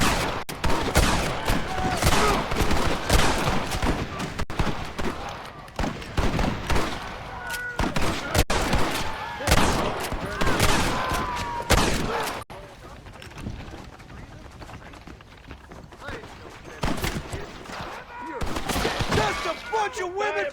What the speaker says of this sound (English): Gatling gun, use it!